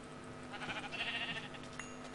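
A sheep bleats in the Minecraft video game, one drawn-out, wavering bleat near the middle over a faint steady background hum, quiet and alone without talk.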